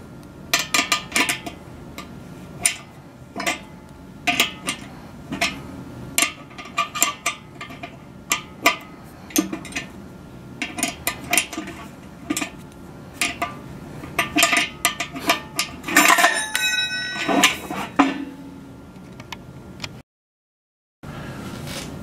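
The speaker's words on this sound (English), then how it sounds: "Use a 12mm wrench to tighten the bolts." 12mm wrench tightening the bolts on an ePMP Force 100 radio mount, heard as close, repeated metallic clinks and taps in irregular bursts, ending with a brief ringing scrape.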